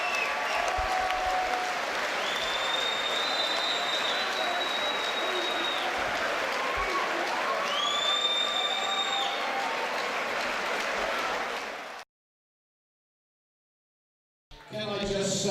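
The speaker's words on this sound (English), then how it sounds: "And listen to the crowd." An arena crowd at a boxing match roars with sustained applause and cheering and rising whistles, loud and continuous for about twelve seconds before cutting to silence, then a brief burst of sound returns.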